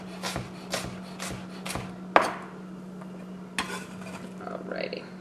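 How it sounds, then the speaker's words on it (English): A kitchen knife dicing an onion on a cutting board, heard as several evenly spaced, close chops and taps, one sharper knock, then a few softer cuts over a low steady hum, with no voices. "I'm going to cut into probably three or four horizontal cuts, and then go ahead and rock my knife"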